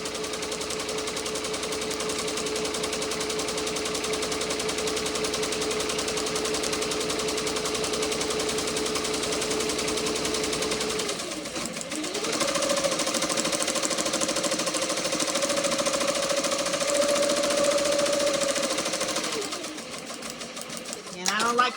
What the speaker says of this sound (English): that's why the embroidery machine kept stopping